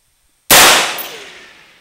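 A single sharp, loud rifle gunshot cracks out after a moment of silence at a military firing range, then rings and decays over about a second.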